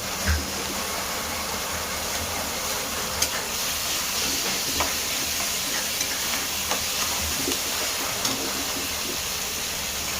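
Tomatoes go into a hot pan with onions and salt, producing a steady, moderate sizzle and hiss with occasional soft clicks and stirring taps, no voices.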